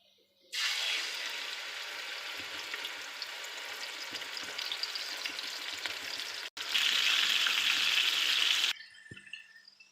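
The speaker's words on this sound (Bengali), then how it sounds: "ফ্রাই প্যানে এখন তেল চাপিয়ে আমি একে একে মাংসগুলো ভেজে নেবো" Meat pieces fry in hot oil in a frying pan, a loud, continuous close sizzle that starts abruptly, pauses for a split second, then returns even stronger before cutting off.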